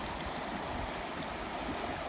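Flooded creek water rushing steadily through a rural pasture after heavy rain, a continuous broadband wash with no breaks, close and moderately loud.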